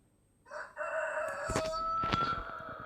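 A rooster crows in a video game, a drawn-out, tonal call over a steady background hum, sounding slightly synthetic and clean rather than outdoors.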